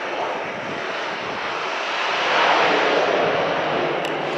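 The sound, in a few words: cargo plane landing with engine reverse thrust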